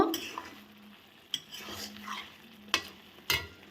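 A spoon scrapes and knocks in a pot of simmering Bengali green banana curry with fried lentil dumplings, a few sharp clinks standing out over a soft background bubble, close and fairly quiet.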